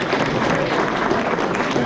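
Audience applause for a best-of-class winner at rifle judging awards during a gunmakers fair, a loud continuous burst of many hands clapping close by.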